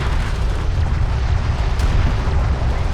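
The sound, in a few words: mortar explosions in video game Homeworld: Deserts of Kharak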